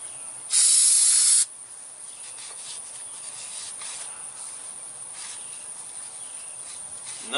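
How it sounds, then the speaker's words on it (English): Extremely flammable aerosol brake cleaner sprays in one loud, steady hiss of just under a second while cleaning brake parts during an S-cam and bushing replacement, then a faint hissy background lingers. "Nothing like extremely flammable brake cleaner."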